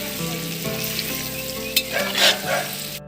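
Potatoes sizzle steadily in a hot frying pan, with a few louder scraping and stirring strokes near the end as a utensil moves them around.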